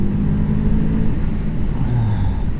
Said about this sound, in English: Just blipping the throttle.